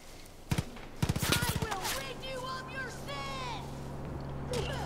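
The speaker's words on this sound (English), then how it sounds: "Who's shooting?" Bursts of automatic gunfire in Far Cry New Dawn, a sharp pair of shots followed by a rapid rattling volley, with voices talking over the fighting afterward.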